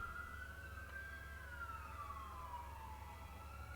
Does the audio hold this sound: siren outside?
yes